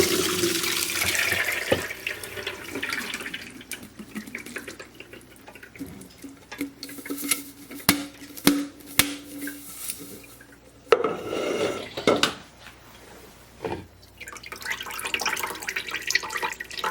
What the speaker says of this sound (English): I'm just going to go ahead and pour it into my colander and strain it.